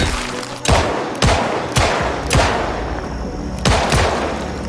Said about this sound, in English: I heard gunshots and looked back to see 2 survivors fighting off the horde